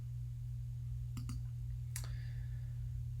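Two quick pairs of computer mouse clicks in invoice management software, close and crisp over a steady low electrical hum, with a pause between them.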